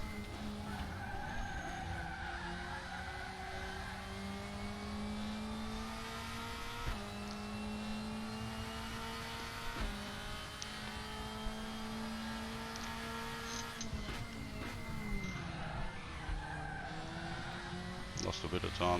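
Tires squeal as the right front wheel locks under braking into a corner. The car is a 2003 AMG Mercedes CLK DTM in a sim race at Watkins Glen. The squeal is a thin, sustained whine over steady engine drone, with talking throughout.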